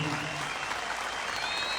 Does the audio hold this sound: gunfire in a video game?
no